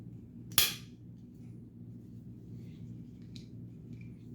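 A Cold Steel Mayhem folding knife with a wave feature snaps its blade shut, making one sharp, loud metallic click that rings briefly and then leaves a quiet room tone.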